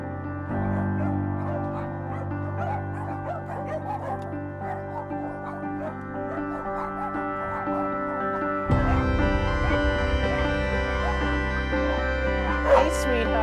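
Rescued dogs at a dog meat farm whimper, yip and bark in a steady chorus, some close and others farther back, with a dense layer of overlapping dog voices that grows louder partway through.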